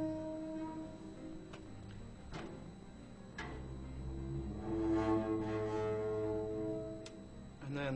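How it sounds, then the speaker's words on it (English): A garbage can lid being scraped and manipulated, the raw source for the Mass Effect Sovereign sound, giving faint metallic creaks, scattered clicks and a low droning resonance that swells midway, quiet and unaccompanied. "It's, you know, a garbage can lid being manipulated."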